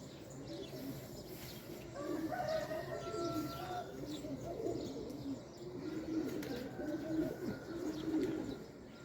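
Pigeons cooing in soft, repeated low calls, with faint chirps and steady background noise.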